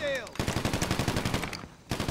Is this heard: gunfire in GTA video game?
yes